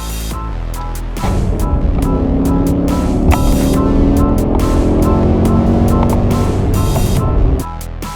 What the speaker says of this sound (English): today we're going to take M5 out for a rip